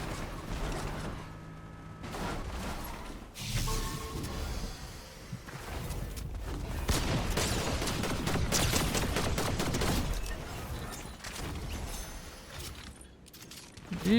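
Fortnite Zero Build gunfire crackles in scattered bursts and rapid volleys, some sharp and close, others softer and distant, mixed with clicking, rattling mechanical game sounds across a long stretch without talking.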